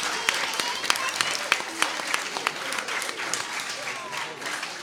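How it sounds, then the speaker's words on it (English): An audience at a school sports awards ceremony claps for the cheerleading team, close and brisk, with sharp individual claps standing out over a dense patter that fades slightly toward the end; a voice speaks under it. "Let's give these girls a hand."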